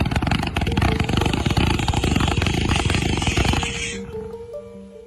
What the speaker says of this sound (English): Cake fireworks.